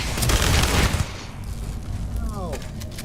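Gunfire in the space game Starfield: a loud, rapid burst of shots crackles for about a second, then fades into quieter background noise.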